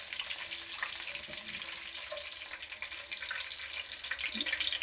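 White cumin seeds frying in a tablespoon of hot oil give a steady, even crackling sizzle that runs without a break from start to finish.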